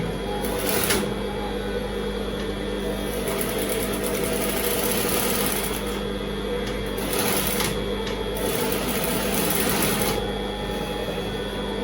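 A sewing machine stitches fabric in a continuous fast mechanical whir with a steady motor hum and rapid needle clatter. It runs unbroken with a few short surges in pace and no speech.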